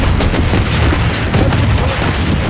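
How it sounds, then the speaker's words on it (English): Loud, dense missile bombardment in the Blood Strike shooter game, a continuous rumble of overlapping booming explosions that fills the whole moment with no talk. "Missile bombardment on its way."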